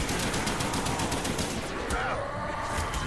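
Python revolver fire in Call of Duty zombies on the Call of the Dead map, heavy gunshots blending with a loud, continuous roar of game noise and rapid firing for a few seconds.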